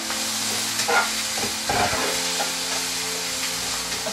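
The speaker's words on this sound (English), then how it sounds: "And I'm going to give it a good stir." Achar masala with methi seeds sizzles and fries in a pan for achari baingan as it is stirred, a steady close crackle with a few louder scrapes and no talking.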